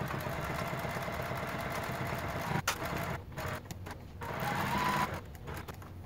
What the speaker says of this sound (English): When I'm using cotton, I like to go ahead and top stitch with about a four stitch length